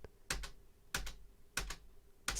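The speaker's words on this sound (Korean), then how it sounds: "쉬프트를 누르고 C, 그리고 이동은 스페이스바로 이동하면" Computer keyboard keys pressed in Finale notation software, Shift+C and then the spacebar, giving four short, crisp keystroke clusters spaced about half a second apart over a quiet background.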